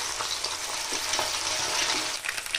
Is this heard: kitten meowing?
no